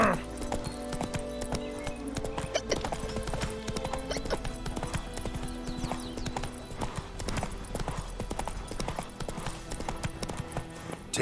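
Roach, Geralt's horse in The Witcher 3, hooves clip-clopping in a fast steady rhythm, close and continuous, with game music and effects underneath and a brief spoken line near the start.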